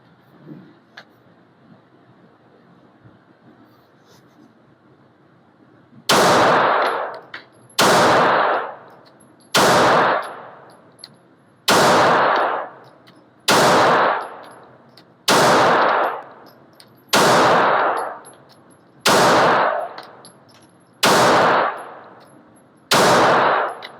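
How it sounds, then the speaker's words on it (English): A Ruger RXM pistol fires ten sharp, loud shots at a range, evenly spaced about two seconds apart, each with a short ringing tail, after several seconds of near silence. "We'll try to put a few hundred rounds through it, see how well it goes."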